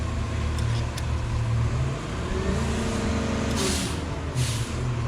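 Outdoors, a garbage truck's diesel engine rumbles steadily at moderate distance, with two short hissing air-brake releases near the end.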